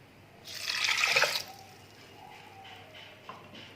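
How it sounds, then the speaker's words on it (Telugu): A glass of water poured into a cooking pot of tomato and green chilli dal: a short splashing gush of about a second, then faint trickles and drips in a quiet kitchen. "ఒక గ్లాస్ వాటర్ వేసుకోవాలి."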